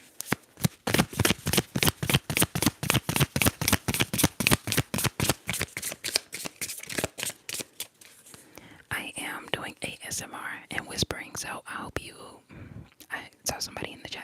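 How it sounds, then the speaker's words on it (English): Tarot cards are shuffled in steady, rapid riffling bursts at close range, a long rhythmic run, followed by softer card handling as a voice speaks quietly. "Let's shuffle."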